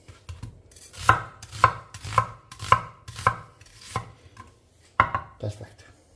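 Close, sharp knife strokes cut through a big fist-sized onion: a run of steady chops, a brief pause, then a couple more cuts, with no voices.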